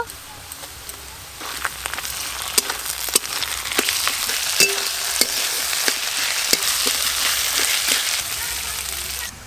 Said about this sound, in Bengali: এবার এর সঙ্গে আমি আদা রসুন বাটাও দিয়ে দেব।